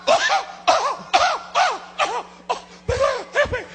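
A series of about eight harsh, wheezy coughs in quick succession, close to the microphone, each burst short and raspy with brief gaps between.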